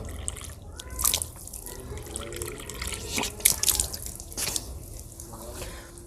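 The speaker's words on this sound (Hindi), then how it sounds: "पानी इस तरह से डालना" Water poured over the hands during wudu ablution, splashing and dripping from a tap into a sink in irregular bursts, close and moderately quiet.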